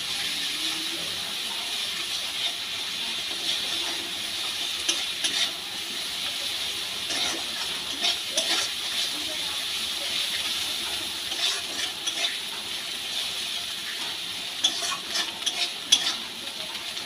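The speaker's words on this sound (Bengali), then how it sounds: "এবার মশলাগুলো ভালোভাবে আমি কষিয়ে নেব" Turmeric, salt and spices fry steadily in a pan for a spicy tangra fish curry, giving a continuous close sizzle broken by scraping stirs and small clinks, with no talk.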